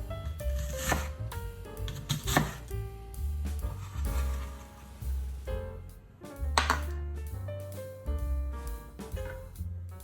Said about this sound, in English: chop into small pieces.